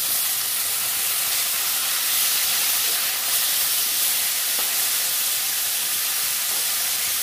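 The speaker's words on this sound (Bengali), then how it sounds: "মাছ ভাজে নিচ্ছি, রুই মাছ।" Rohu fish fries in hot oil in a pan, giving a steady, even, close sizzling hiss throughout with no talking.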